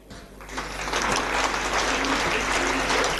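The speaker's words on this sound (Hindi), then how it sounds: "तो जोरदार तालियों के साथ स्वागत कीजिए हमारे लिटिल स्टार्स का" Audience applause welcoming young children onto the stage at a school annual function, building from quiet into a loud sustained clapping crowd that carries on steadily.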